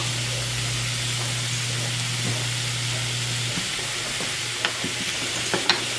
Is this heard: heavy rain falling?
no